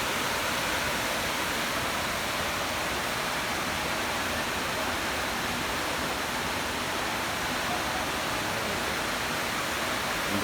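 Palaypay waterfall in Pamplona, Negros Oriental, rushing steadily, a constant broadband roar of falling water that stays even and close throughout with no voices.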